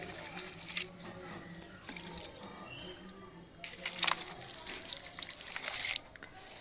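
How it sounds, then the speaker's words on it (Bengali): Water trickles and splashes onto the soil at the base of rose plants in a garden, a soft continuous pour with brighter spattering bursts toward the end. "আমি এই জলটাকে আমি প্রত্যেকটা গাছের গোড়ায় দিয়ে দিই"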